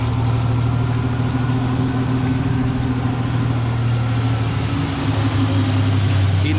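A car engine idling steadily just after an oil change, a loud, even low hum with no talking.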